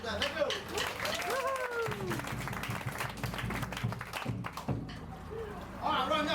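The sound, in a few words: applause from passengers on a lagoon cruise boat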